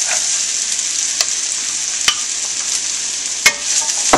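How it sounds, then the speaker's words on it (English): Potatoes and carrots sizzle steadily in a frying pan for a vegetable korma, a loud continuous hiss with a few sharp stirring clicks and scrapes, no talking. "So now I'm going to add in all of my potatoes and my carrots"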